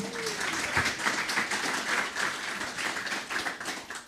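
Audience clapping at an industry networking event, a steady, fairly soft wash of many hands from a seated crowd, continuing evenly throughout.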